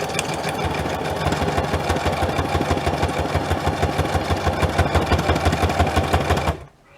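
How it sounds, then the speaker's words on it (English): A sewing machine stitches steadily at a fast, even rhythm, loud and close, then stops abruptly near the end. "So let's just get my sewing machine ready."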